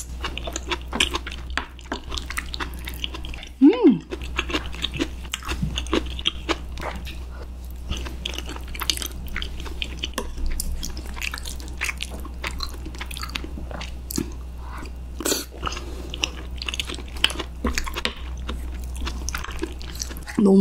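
Someone eats spicy rose-sauce braised chicken with glass noodles and onion, the soft chewing and slurping close and steady with a few sharper bites over a constant low hum.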